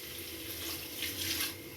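Water poured into a pot of prawn biryani with the prawns already added, a steady close splashing pour running for under two seconds with no talk.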